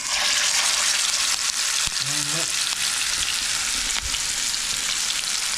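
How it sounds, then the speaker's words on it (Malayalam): Fish frying in coconut oil with curry leaves, a loud, dense, continuous sizzle up close with a few faint knocks and a brief squeak partway through. "വെളിച്ചെണ്ണ ഒഴിക്കാം ഒരു മീൻ അതിലേക്ക് ഇടാം"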